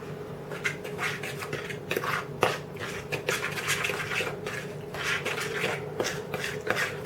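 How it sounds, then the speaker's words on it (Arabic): A fork whisks sugar icing with a little water in a bowl, giving quick repeated clinks and scrapes against the dish. The sound is close, fairly soft and continuous. "واجيب الشوكة اخلط بيها"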